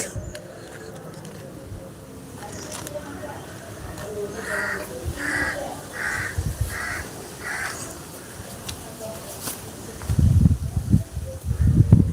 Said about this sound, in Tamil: காக்காகள்லாம் கூப்பிடுது கறி எடுக்க எல்லோரும் வாங்கன்ட்டு